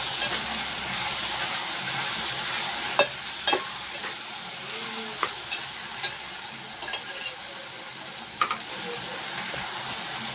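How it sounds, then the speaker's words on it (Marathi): Soaked soybeans with potato are sautéed in a pan, giving a constant soft sizzle punctuated by sharp spatula taps and scrapes at irregular intervals, and no talking. "व्यवस्थित असं परतून घेतलंय"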